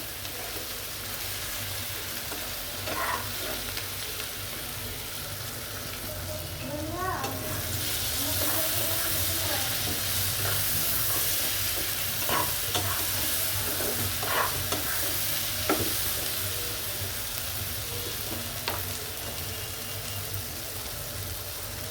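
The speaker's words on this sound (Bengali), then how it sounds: "একটু ভাজবো" Air fish with winter vegetables fries in a pan for a do pyaza, making a steady, close sizzle with occasional scraping and stirring clatters throughout.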